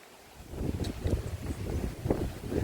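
Wind rushing past a microphone while riding downhill through El Pilar Heights, a continuous low buffeting roar that swells and gusts unevenly, fairly close with no talking.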